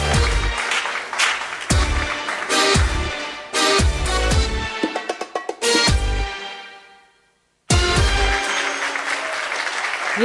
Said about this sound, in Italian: E facciamo ancora un applauso fortissimo